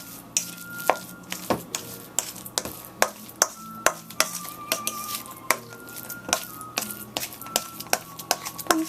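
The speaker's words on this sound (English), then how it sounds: "I'm going to mix all that sugar in," Sugar being stirred into cooked mung beans with coconut milk, a spoon clinking and scraping steadily against the pot in a quick, repeated rhythm, close and fairly quiet with no talk.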